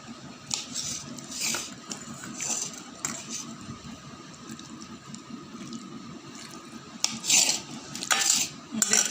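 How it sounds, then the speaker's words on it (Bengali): Cutlery clinks and scrapes against a plate of Maggi noodles with boiled potato, with soft watery, wet sounds and a cluster of sharper clinks near the end, close and fairly loud, with no talking. "এই যে আমার ম্যাগি, আমি এখন খাচ্ছি।"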